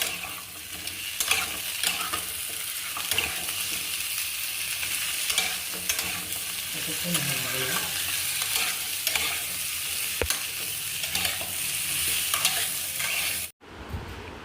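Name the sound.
vegetables with raw banana frying in a pan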